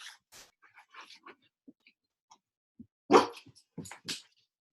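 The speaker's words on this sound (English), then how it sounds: "my dogs are barking" Scattered dog barks and yips, some faint and some sharper, with two louder bursts near the end amid quiet gaps.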